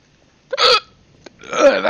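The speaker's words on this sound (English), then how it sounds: "I think I have the hiccups now." Two hiccups, close and loud, from a player exploring a ghost town in Garry's Mod: a short sharp gulp, then a longer voiced hiccup about a second later.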